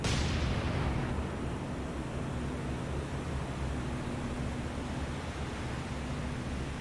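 Battleship main guns open fire at a destroyer in the naval video game War on the Sea, a loud opening boom that decays into a long, heavy rumbling wash of noise, without voices.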